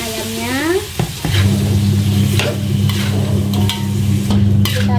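Chicken pieces go into a hot frying pan for Indonesian rica-rica ayam, giving a loud, steady sizzle with stirring clatter and a few utensil knocks, close up and continuous.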